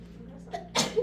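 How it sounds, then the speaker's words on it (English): One sharp, forceful sneeze-cough bursting out close by in a quiet room, preceded by a faint breath and followed by a brief vocal trailing sound. "It was like a sneeze cough."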